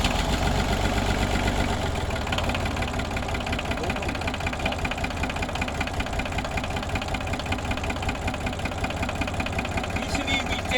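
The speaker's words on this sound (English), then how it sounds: "when you work with the tractor to try and put it to low gear" Tractor engine idling steadily in low gear, a continuous close mechanical rumble with a knocking throb that runs without a break for the whole stretch.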